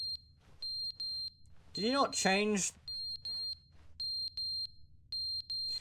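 A smoke alarm in The Stanley Parable: Ultra Deluxe gives short, piercing high beeps in quick pairs and triplets, repeating steadily over a low room hum, with a brief spoken voice in the middle.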